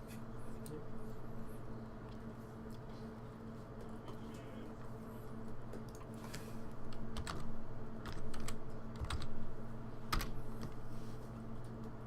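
Rapid, steady typing on a computer keyboard indoors, continuous clicking keystrokes with occasional louder taps over a low background hum.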